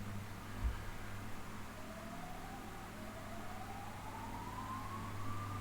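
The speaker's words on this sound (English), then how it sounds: "Damn, the ambulances just go crazy here." An ambulance siren rises slowly and steadily from a distance along a street, fairly faint over a constant low traffic rumble, with a brief thump near the start.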